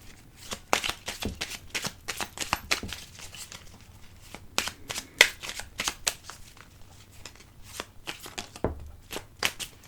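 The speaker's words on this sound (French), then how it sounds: "On va donc tirer une petite carte." Playing cards shuffled and drawn from a deck during a tarot-style card reading, giving rapid papery riffles and crisp snaps in irregular bursts, close and fairly quiet, with no talking.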